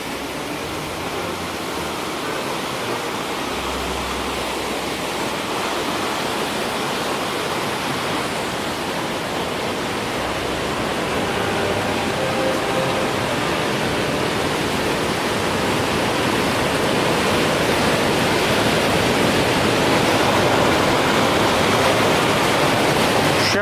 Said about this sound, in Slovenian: Tukaj pa grmi Trebuščica dol.